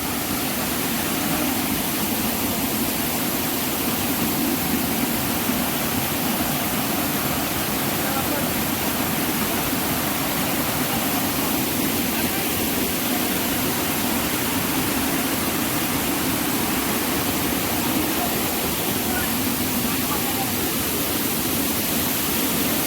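Loud, steady rushing of flowing water, a dense unbroken roar that holds the same level from start to finish.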